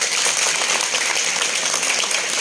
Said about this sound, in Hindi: इसीलिए अपने लिए ताली बजाओ।